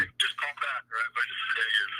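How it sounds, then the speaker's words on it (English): A phone rings loudly during a rowdy live show, its bright electronic trills sounding in bursts while several people talk over it. "Ooh, that's your phone."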